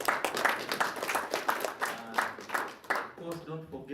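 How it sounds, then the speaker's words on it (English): Applause from the audience at a symposium, clapping loud and dense at first, then thinning out as a voice starts speaking over the last second. "Give yourselves a very loud round of applause."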